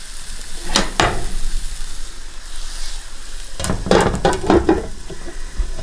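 A cheese omelette cooks in a pan with a steady, soft sizzle throughout, broken by a few sharp scraping or folding clatters near the start and again in the second half.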